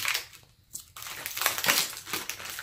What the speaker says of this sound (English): Oh, I'm so sorry about the noise of the plastic.